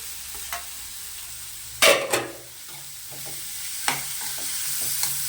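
Bottle gourd pieces fry in a pan with a low steady sizzle, broken by a loud clatter of stirring near the middle and a few lighter scrapes of a spatula.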